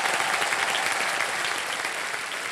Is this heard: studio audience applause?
yes